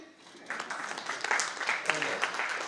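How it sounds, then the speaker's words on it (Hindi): Audience applause at a summit talk swells from quiet into a steady crowd clapping of moderate loudness that continues to the end, with a voice faintly under it. "अब तालियां बजाओगे?"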